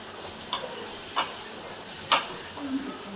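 Tomatoes and rock salt sizzle softly in a pan for a fish curry, with a few sharp spoon scrapes and stirs breaking through the steady frying hiss.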